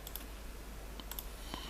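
A few faint, scattered keystrokes on a computer keyboard while code is being written, quiet clicks in a short burst with no talk.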